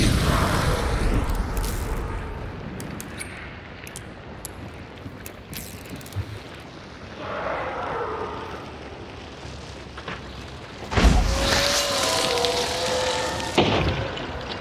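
Explosive crossbow blasts in the video game Hunt: Showdown, set in Arden Parish: broad booming bursts with mechanical clatter, one loud burst near the end, amid constant dense game noise.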